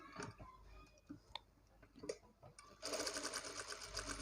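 Sewing machine stitching blouse fabric, a quiet patch of clicks and handling sounds giving way to a steady close whirring run of stitches in the second half.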